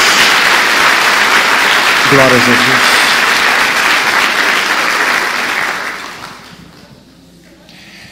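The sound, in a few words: congregation applause for Jesus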